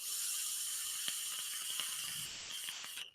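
Crackling vape coil in a Barrage RDA, with a ray coil installed: a steady airy hiss carrying scattered faint pops and ticks, close and continuous, thinning out near the end.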